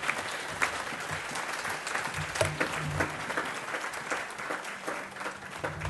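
A church congregation claps and cheers in a steady burst of applause during a service, with some voices mixed in and brief tonal sounds underneath.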